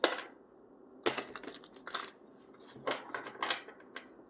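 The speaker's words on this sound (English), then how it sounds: "let's shuffle the tarot cards and get a little more specific information" Tarot cards are shuffled by hand in quiet, close riffling bursts with short pauses between them, without any talking.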